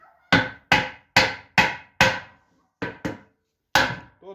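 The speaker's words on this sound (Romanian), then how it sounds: "Să batem cu ciocanul, că v-am spus, face urme." A hammer strikes a wooden barrel in a cooper's workshop: eight sharp, loud knocks, the first five in an even rhythm, then a short pause before two quick blows and one final hit, with no talking.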